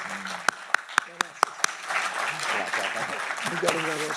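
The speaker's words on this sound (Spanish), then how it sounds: "Por esto y por lo que vamos a recibir, les pido un aplauso para Oscar." A lecture audience applauds, opening with a few sharp individual claps before the clapping blends into a softer ongoing patter, with voices talking over it.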